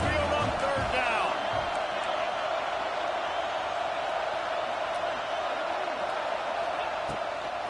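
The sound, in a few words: stadium crowd roaring in video game College Football 26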